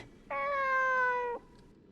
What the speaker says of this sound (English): The cat's meowing on the other side.